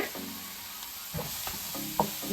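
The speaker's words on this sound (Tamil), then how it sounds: "இது நல்லா வதங்கட்டும்." Salted tomato and masala paste sautéing in a pan makes a soft sizzle with occasional stirring scrapes and clinks, close and fairly quiet, no speech.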